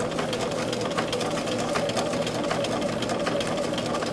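A sewing machine runs continuously while stitching a placket into a garment sleeve, a steady fast mechanical whir and rapid needle clatter at even volume, close up and without talk.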